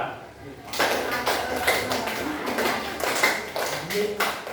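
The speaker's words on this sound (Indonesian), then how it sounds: "kita kasih tepuk tangan segi 4" A classroom gives a 'square' clap pattern, a rhythmic series of sharp group claps in quick bursts, with voices talking over and around them in a noisy room.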